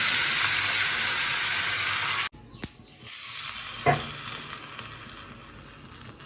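Oil sizzles and hisses steadily in a pan while taro stolon and prawn curry is cooked, the loud frying cutting off abruptly partway through, then returning quieter with a few clinks.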